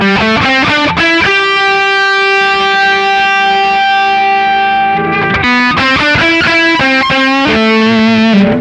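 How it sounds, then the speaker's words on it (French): An electric guitar through an Anasounds Feed Me fuzz pedal with its knob turned down for a starved-battery tone plays distorted strummed chords and a long sustained note, close and moderately loud, with no talking. "Quand tu baisses ce potard, un peu comme quand tu as la pile naze sur une fuzz."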